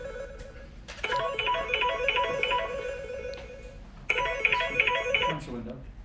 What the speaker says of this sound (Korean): 그런데 갑자기 한 핸드폰에서 전화가 울립니다.